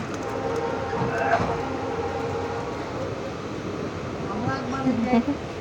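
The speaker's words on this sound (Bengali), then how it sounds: "তিনজনে মিলে সুন্দর বসে বসে আমরা ট্রেনে চড়ে যাচ্ছিলাম" A passenger train rolls along with a steady rumble and rattle heard from inside the carriage, with faint voices in the background.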